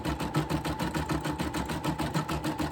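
A sewing machine works a zigzag stitch beneath satin stitching for appliqué in a 4x4 embroidery hoop, a fast, even mechanical whir and clatter of needle strokes, steady and close.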